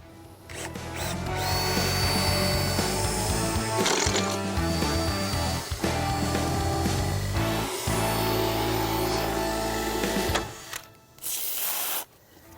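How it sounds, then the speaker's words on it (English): A power drill bores into fiberglass pool steps, whining steadily for about ten seconds, close and loud with grinding texture, then stops with a few short bursts at the end. "I think we should drill right here in the corner."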